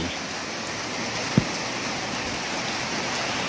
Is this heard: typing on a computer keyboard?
no